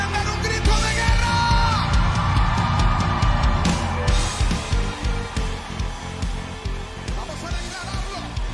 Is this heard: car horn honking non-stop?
no